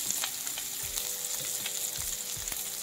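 Baby potatoes sizzle and fry in a pan with chili powder, giving a continuous close crackling hiss with occasional stirring scrapes and no talk.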